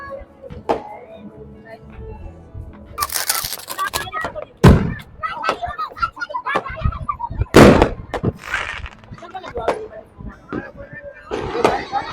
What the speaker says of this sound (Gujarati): અમારે પતંગ કરતા તો વધારે ફટાકડા ફૂટશે ફૂટ્યો